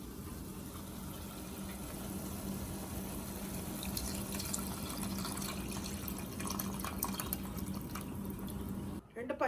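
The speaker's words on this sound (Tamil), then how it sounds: "ஒரு லெமன் அளவுக்கு புளி எடுத்து 1/2 மணி நேரம் அதை ஊற வச்சு அந்த தண்ணி எடுத்து வச்சுருக்கேன். அதையும் இந்த மசாலா கூடவே ஊற்றிக்கிறேன்" Tamarind water pours steadily into a fish curry masala in the pan, a continuous close splashing trickle. A brief clatter comes near the end.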